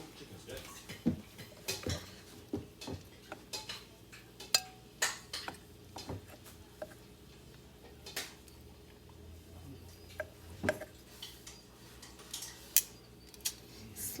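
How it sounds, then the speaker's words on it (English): Knife cutting grilled chicken breast on a board in a home kitchen, giving irregular sharp taps and clicks of blade on board, with a person talking between cuts. "Slice it to the size that you like to eat it."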